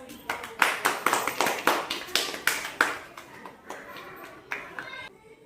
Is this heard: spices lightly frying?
no